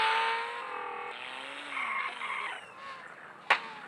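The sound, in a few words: car passing in a video game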